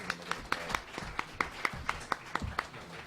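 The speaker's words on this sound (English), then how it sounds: "Everybody give them a round of applause." A summit panel audience claps in a fairly regular rhythm of a dozen or so distinct sharp claps, faint and sparse rather than a full ovation.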